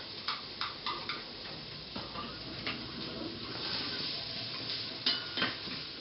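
Shallots sizzle gently in a little olive oil in a pot while a utensil stirs them, clinking against the pot in scattered light taps over a soft frying hiss.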